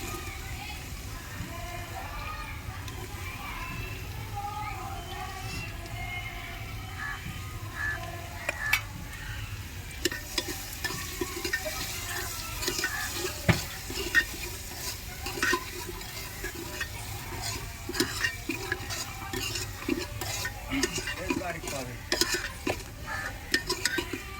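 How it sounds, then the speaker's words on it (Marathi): Finely chopped onion sizzles in a pan with ginger and garlic, a steady low fry under frequent spoon scrapes and clinks, while voices talk in the background. "आता आपण कांदा टाकून घेणार आहोत बारीक चिरलेला."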